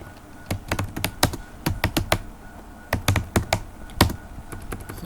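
C++ code being typed on a computer keyboard: crisp, close keystrokes in uneven bursts, clusters of quick taps broken by short pauses, with no talk over them.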